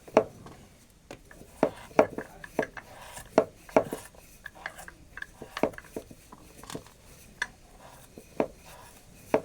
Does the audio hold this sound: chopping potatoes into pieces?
yes